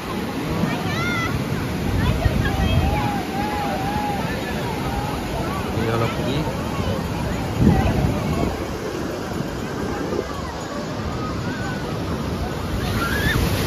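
Sea waves wash steadily onto Puri beach with a constant roar and wind buffeting, while people talk and children play nearby.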